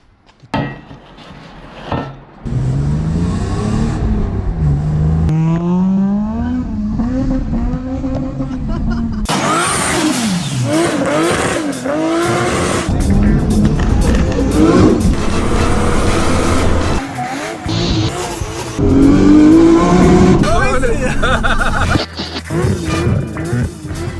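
A car drives along on the way to a garage, its engine and road noise steady and fairly loud throughout, with pitch sweeps as it accelerates and shifts; tyre and cabin rumble sit underneath, with a brief lull near the end.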